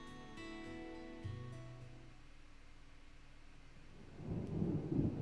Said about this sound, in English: Big black cumulonimbus clouds are in the sky. And that sound. Thunder.